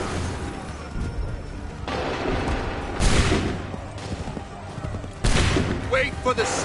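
Musket volleys from soldiers in Assassin's Creed 3 boom out in a few heavy bursts against a noisy battlefield din, with shouted commands over the firing.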